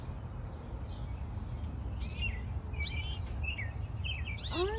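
Small pet birds chirp in a home, several short high tweets and rising calls scattered through the clip over a low background hum, fairly close.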